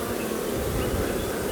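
Honey bees buzz around a nuc hive during an early spring inspection, a close, continuous droning hum that stays even and unbroken throughout, with no voices.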